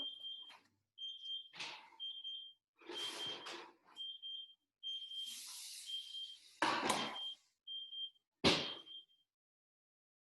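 A kitchen timer for roasting carrots beeps in steady high-pitched bursts while clattering, scraping sounds of cooking come and go around it.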